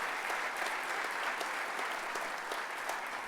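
Induction ceremony audience giving a round of applause, a thick continuous wash of many hands clapping at steady intensity, close and full, with no voices over it.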